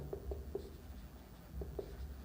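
Pen or pencil scratching on paper as a trigonometry maths problem is written out by hand, a few short soft strokes in a quiet room, close and faint.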